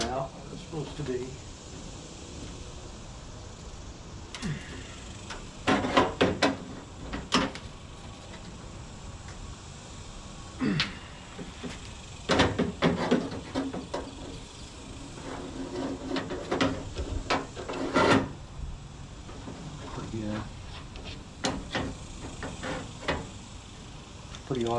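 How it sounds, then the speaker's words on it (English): A dented metal door on a 1955 car gets bent back into shape, giving scattered sharp clanks, taps and creaks in bursts against a quiet room, with occasional talk. "let's try to bend this door out where it's supposed to be."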